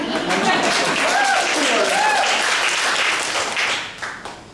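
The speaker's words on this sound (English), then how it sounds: "thank God you clapped" Audience applause at a spoken-word poetry performance, loud and sustained for about four seconds, a dense wash of clapping that tapers off at the end, with no voice over it.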